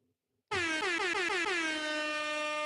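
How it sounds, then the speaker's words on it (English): A single loud blast of an air horn after a brief near-silence, bright and brassy, held for about two seconds. "Where's my little air horn?"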